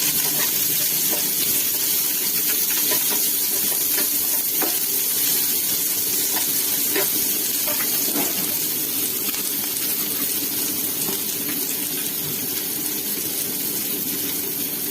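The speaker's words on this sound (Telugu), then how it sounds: "గీ రోస్ట్ వేగిన తర్వాత అందులో ఆనియన్ పీసెస్ వేసుకోవాలి" Onion pieces fry in hot ghee in a pan, a steady sizzle and hiss running throughout with occasional light clicks of stirring, close and moderately loud, with no talking.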